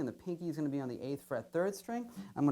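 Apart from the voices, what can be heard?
No everyday noises stand out.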